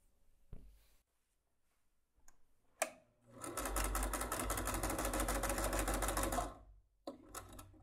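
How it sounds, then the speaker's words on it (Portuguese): A sewing machine stitches around the edge of a fabric wallet in one continuous rapid whirring run of about three seconds, framed by quiet handling clicks and taps. "vou fazer uma costura aqui em toda a volta, deixando essa parte aqui para desvirar"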